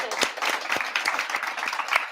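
Applause played in late during a livestream charity event, a steady wash of clapping with a few sharper individual claps standing out, moderately loud throughout.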